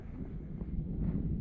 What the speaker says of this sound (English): slow wind breeze